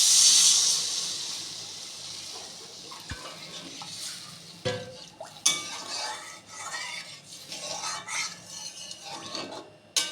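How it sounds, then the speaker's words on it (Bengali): Water hits hot fried spice paste for a fish egg curry, releasing a sharp, loud hiss at the start that fades into quieter bubbling, with scattered utensil clinks and scraping against the pan. "এবার আমি জল দিয়ে দিচ্ছি।"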